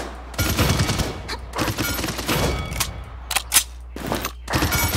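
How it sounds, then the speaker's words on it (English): Bursts of weapon fire in the Paladins video game during a training tutorial, loud, repeated volleys with brief pauses and a few sharp single shots. "Nice shooting."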